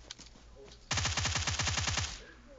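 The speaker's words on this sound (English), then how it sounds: "There also someone shooting at you." Rapid automatic gunfire from a first-person shooter game, a loud sustained burst of about a dozen evenly spaced shots after a brief quiet lead-in, with faint game background noise.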